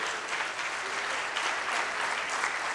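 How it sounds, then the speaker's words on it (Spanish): Applause from the audience for a panel at a foundation anniversary event in the Sheraton Córdoba Hotel, a steady, moderately faint stretch of many hands clapping with no break. "Fuerte el aplauso."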